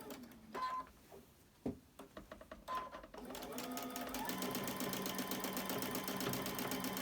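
Sewing machine stitching a fabric bowl cozy, a few short starts and stops of clicking, then a steady fast mechanical whirring run that continues to the end, close up and alone.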